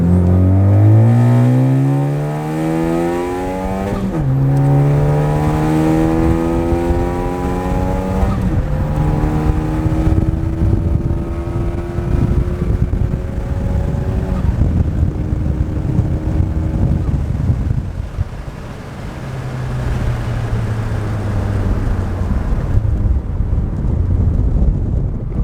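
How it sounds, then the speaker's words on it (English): Car engine revving repeatedly with rising turbo spool whine, fitted with a CPE hotside chargepipe; loud and close, sweeping up in pitch several times over sustained engine drone and wind noise, no talking. "how you can hear the actual turbo spooling up"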